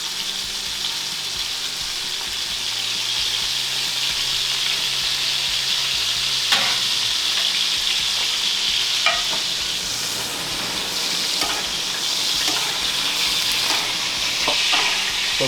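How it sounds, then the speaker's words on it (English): A moose roast sizzles steadily while being basted with herbs, flavored tallow and lobster butter, a close, constant frying hiss broken by occasional spoon clicks and louder spattering bursts. "I'm going to baste it with the flavored tallow. I'm going to add a little bit of my lobster butter to baste."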